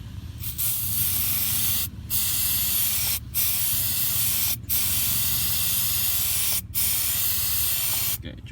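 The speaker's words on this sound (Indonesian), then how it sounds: "Berikutnya kita akan coba berikan kontak cleaner ke soket ECU di sini." Contact cleaner hisses from an aerosol can into the ECU socket of a Kia Sportage in six loud, close, sustained bursts of one to two seconds each, split by short pauses.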